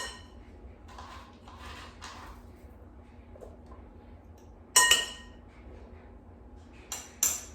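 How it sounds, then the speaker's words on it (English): Apples are sliced into cubes and dropped into a bowl with eggs and banana, giving faint knife taps followed by a few sharp clinks of pieces and utensil against the bowl in a quiet kitchen. "continue slicing the apples and adding to the bowl"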